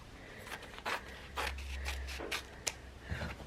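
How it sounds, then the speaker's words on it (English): Sharp scissors snip through fused fabric for a small quilted mug rug, making quiet, close crisp cuts in short irregular bursts. "I'm going to cut that out with a nice pair of sharp scissors"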